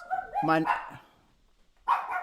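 A dog barks in a few sharp yips and bow-wows close by at the start, with a voice talking briefly afterward.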